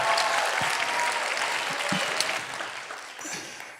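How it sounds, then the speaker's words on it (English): An audience at a diversity and inclusion talk applauds steadily for several seconds, a dense wash of clapping that stays fairly even and eases slightly toward the end. "giving a round of applause"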